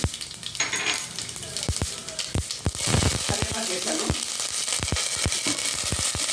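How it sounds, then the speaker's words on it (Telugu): Fenugreek seeds, mustard seeds, cumin and dried red chilies crackle and sizzle in hot oil, a dense spattering hiss with sharp popping ticks that thicken into a busy run of pops midway, close up. "ఇప్పుడు నేను మెంతులు, ఆవాలు, జీలకర్ర, ఎండుమిర్చి వేస్తానండి"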